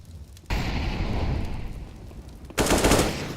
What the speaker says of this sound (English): Nice shot from Goofy